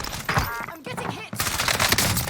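Rapid bursts of gunfire in the battle royale game Warzone, sounding as a dense fusillade with a short lull midway, fairly loud and close, with game voice chatter mixed in.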